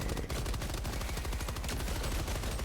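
Rapid automatic gunfire from the video game Helldivers 2, a dense, loud, continuous burst of shots throughout with no voices over it.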